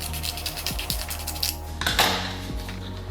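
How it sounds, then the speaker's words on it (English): Vinyl wrap film being trimmed on a BMW 1 Series M Sport F20, with a few crisp blade snips and crinkling plastic rustles close by, plus a brief scraping swipe midway, no talk. "So I'm just going to cut a scallop out."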